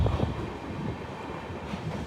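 A Bharat Gaurav IRCTC tourist train gathers speed, heard as a steady broadband rumble with wind-like rushing noise and no voices.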